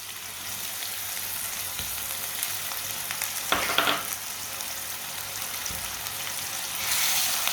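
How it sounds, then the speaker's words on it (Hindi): Finely chopped green chilies, crushed ginger and chopped tomato fry with potatoes in a pan, giving a continuous steady sizzle with a brief stir partway through and no talking. "सब चीज़ों को 2 मिनट के लिए पका लेंगे।"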